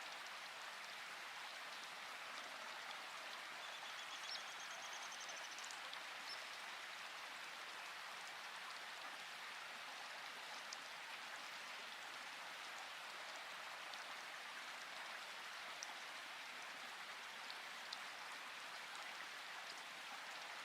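Soft, continuous rainfall patters evenly on a surface, a quiet steady hiss with scattered drops and no voices.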